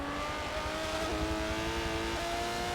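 An Aston Martin DBR9 in a racing game at Hockenheim, engine roaring steadily at high revs with rising pitch and a quick upshift or two as it powers toward the finish line.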